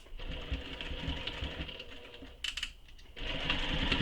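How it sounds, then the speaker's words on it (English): Sewing machine stitching the side seams of a handmade handbag, rapid mechanical stitching that runs in short bursts with a brief pause and restart, close and moderately loud. "I'm just sewing my sides closed for now, not the bottom."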